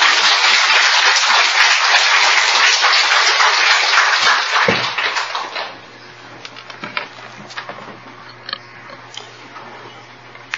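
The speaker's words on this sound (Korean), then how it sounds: "축복의 박수 먼저 하고" A church congregation gives a round of applause in blessing, a dense, loud wash of clapping that holds steady for several seconds, then quickly fades to scattered claps and quiet room noise.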